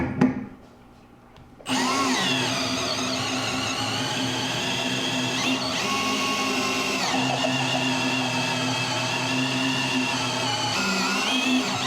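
A drill bores steadily into a live pressurized water line during an isolation valve installation, a loud, continuous grinding whine that starts abruptly after a brief quieter moment and holds without pause to the end.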